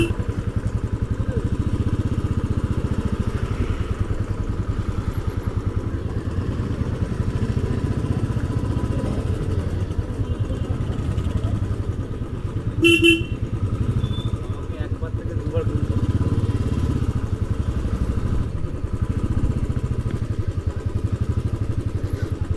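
A motorcycle rides along the mountain road toward Mirik Lake near Darjeeling, its engine droning steadily and close throughout with a brief clatter partway through.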